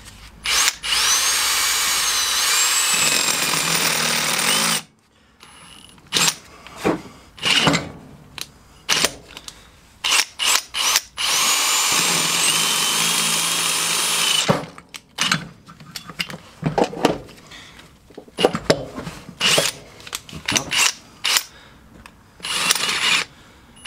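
A power drill whines in long and short bursts, drilling the metal of a damaged rear axle hub mount on a Peugeot for Helicoil inserts, up close, starting and stopping repeatedly with brief pauses between runs.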